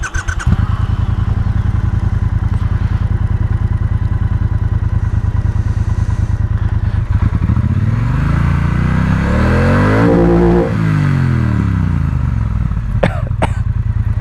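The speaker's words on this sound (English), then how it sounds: "I thought I'd show you how loud the bike was" Triumph Speedmaster motorcycle engine idling with a loud rapid thumping throb, then revved hard in a long rising and falling blip before settling back, very close and dominant, with no talk.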